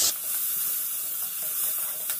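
Vegetables with spices and chili sauté in a pan with a constant, close hiss of sizzling oil, heard alone without any talk.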